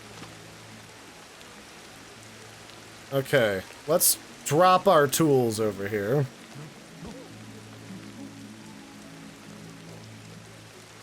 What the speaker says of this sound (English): Oh, it's raining. Let's get out of the rain first.